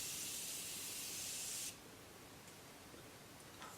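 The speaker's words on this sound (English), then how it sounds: "it just gave me the continuous spray" Makeup setting spray releasing a continuous fine mist, a soft, even hiss lasting under two seconds, then stopping abruptly into quiet room tone.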